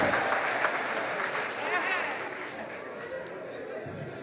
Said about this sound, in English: Please clap for this side, the camera can see me.